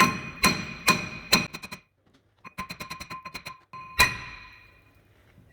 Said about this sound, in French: Si le disque ne vient pas du premier coup, vous pouvez prendre un marteau, taper derrière